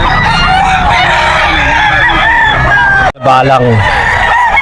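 Bull stag gamefowl crow loudly and repeatedly at a pet market in Bocaue, Bulacan, close and overlapping amid market noise, with a voice speaking briefly.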